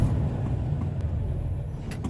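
A Class A truck rolls forward slowly at two to five miles an hour during an air brake test, giving a steady low engine rumble close by with a couple of faint clicks near the end and no talking.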